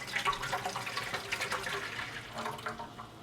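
Water poured from a container into a bath for Metal Rescue rust remover while restoring a South Bend Heavy 10 lathe bed turret, a continuous moderate splashing and gurgling that tapers off near the end.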